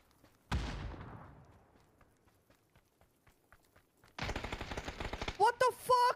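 Mini-14 rifle fire in PUBG on the Miramar desert map: one loud, close shot with a long echoing tail, then a quick, dense run of rapid shots, followed by a voice speaking.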